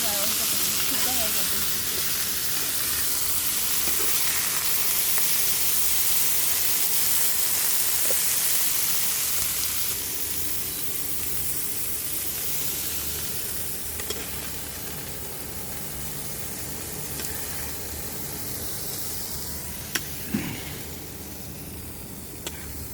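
Broccoli lightly frying in a home kitchen pan gives a steady, close sizzle and hiss that fills the whole stretch, easing slightly softer in the second half with a few small pops.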